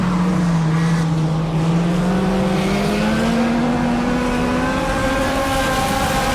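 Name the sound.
race cars on dirt speedway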